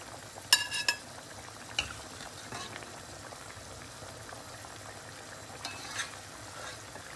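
Chicken livers simmer in a pot of boiling water, a soft steady bubbling with a few sharp clinks and stirring knocks early on, close and quiet, with no talk.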